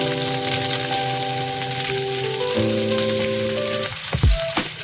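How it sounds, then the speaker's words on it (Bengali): Onion and capsicum fry in a pan with a steady, close sizzle that crackles continuously, with a brief clatter near the end. "দেখো পেঁয়াজটা আমি ভেজে নিচ্ছি।"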